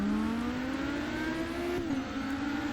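A steady, droning Volvo 850R race car engine in a video game holds a high, slightly rising pitch, then shifts briefly as if changing gear, loud and close throughout.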